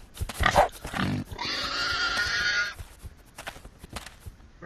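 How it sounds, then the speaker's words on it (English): Pig squealing in the video game Ark, a loud sustained squeal near the middle, surrounded by shorter grunts and game noises. "Oh, it's a pig."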